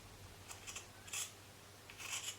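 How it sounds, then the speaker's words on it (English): Scissors snip through fabric to cut out long feathers for a clothes-based owl art piece, several quick crisp cuts in short clusters, close and quiet. "So basically just cut them out"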